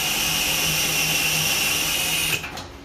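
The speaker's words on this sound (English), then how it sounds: "I'm just starting the hole, just trying to get the drill bit to bite." A power drill whirs steadily at high speed starting a hole on a 1969 Mustang Fastback, then cuts off near the end as the motor winds down.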